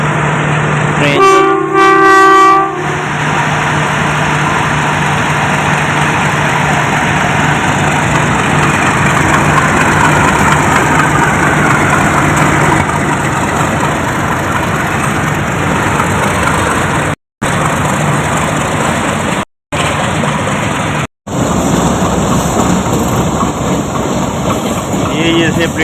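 A locomotive at Multan Cantonment station sounds a loud horn in a few short blasts, then its engine runs steadily close by with station bustle and voices throughout, briefly cutting out near the end.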